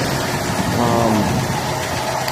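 A Mark IV car engine fitted with an Edelbrock carburetor runs steadily nearby, a smooth continuous mid-range hum with a brief swell in the middle.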